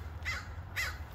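Two harsh caws from a crow in a garden, evenly spaced about half a second apart, moderately distant over a quiet low background.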